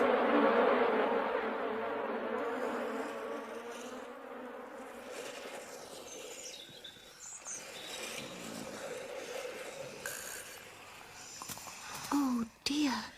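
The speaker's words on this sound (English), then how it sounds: "I shall ask Benjamin Bunny to help me drive out these tiresome bees." A buzzing swarm of bees, loud and close at the start and then fading, with scattered other sounds later.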